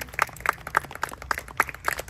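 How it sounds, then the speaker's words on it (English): A few people clap in a steady, sparse rhythm for veterans at a Cub Scouts flag retirement ceremony, close by, with no voices over it. "give a big round of applause to our veterans"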